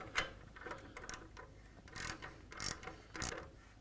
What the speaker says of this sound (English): the last thing we need to do is tighten this clamp